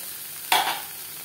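Mustard-marinated fish parcels for Bengali paturi frying in a pan, with a steady low sizzle and one sharp hissing flare midway as a piece is turned over.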